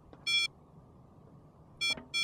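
Computer terminal in the game Trespasser beeping as it boots up: three short, bright electronic tones, one early and two close together near the end, over a quiet low hum.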